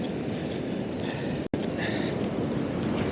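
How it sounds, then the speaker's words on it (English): Strong wind buffeting the microphone on an open beach, a steady loud roar of broadband rumble throughout with a brief dropout near the middle. "It's just the headwind and the wind chill"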